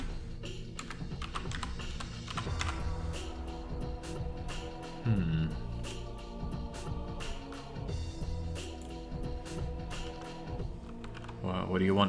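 Computer keyboard keys pressed in rapid, irregular bursts while a PC port of Perfect Dark runs, close clicks and taps scattered throughout over steady game sound and occasional voice.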